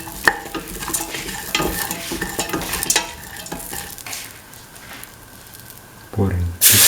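A spoon scrapes and stirs a chickpea vermicelli mixture in a sizzling pan, with close, irregular scraping strokes over a soft frying hiss and a louder clatter at the end.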